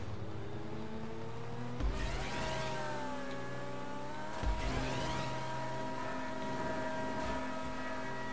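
An X80 car engine in GTA V Online, a steady high-pitched whine that swells with two sharp revving bursts, heard up close with no talk over it.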